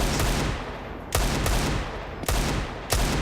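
Gunfire in Counter-Strike: Global Offensive during a professional match on the Cache map, dense bursts of shots repeating in roughly three waves, loud and continuous.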